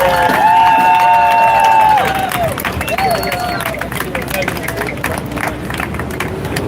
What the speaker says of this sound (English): Folks, can we give them a round of applause?